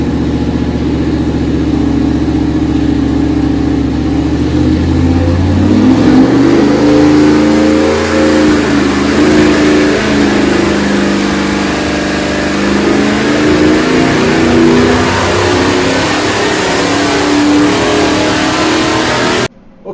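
A 383 small-block Chevy stroker with a Comp XE274H cam running on an engine dyno, loud and close, idling briefly then revving up into a sustained high-rpm roar that holds steady until it cuts off abruptly at the end.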